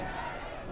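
Soccer crowd at a Spokane Zephyr FC versus Brooklyn FC match shouting and appealing for a penalty, a brief dense roar of many voices in a stadium.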